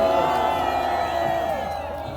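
A crowd cheers and whoops at an outdoor political rally against a presidential impeachment, held in front of the Democratic Party headquarters. The roar is loud and sustained with mixed voices, then eases slightly toward the end.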